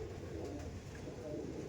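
Andhra pigeons coo softly in a loft, a faint low warbling murmur under steady background noise.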